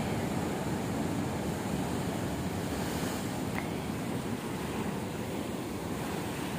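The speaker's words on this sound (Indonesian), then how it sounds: "ombaknya lebih gede di sini ya" Ocean surf rolls in continuously at Karang Tawulan beach, a broad, steady wash of breaking waves mixed with wind rumble, with no voices heard.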